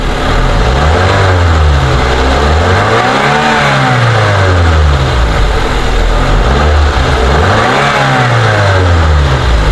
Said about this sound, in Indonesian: ini udah kita blayer, suara mesinnya masih normal